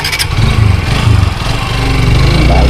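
A motorbike engine runs close by at a loud, steady mid-pitched drone, with a brief clatter at the start and the tone rising slightly toward the end, and no voices.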